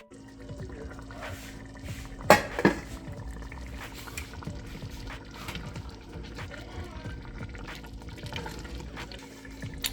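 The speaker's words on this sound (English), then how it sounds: "let those simmer for about 15 minutes" Rabbit and dumplings simmer in a lidded pot with a low, steady bubbling over a constant background hum, broken by two sharp clanks early on.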